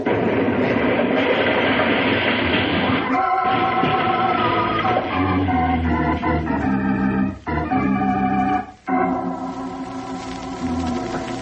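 A train rolls past in a dramatized radio scene, a loud continuous clatter and rumble with tonal whistling overtones and rhythmic wheel beats, briefly dropping out twice near the end.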